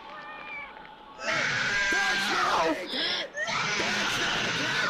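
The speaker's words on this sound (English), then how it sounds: "the cat starts going crazy" A cat yowls and caterwauls frantically in a Bigfoot movie scene, with loud, wavering cries that begin after a quieter opening and run almost to the end.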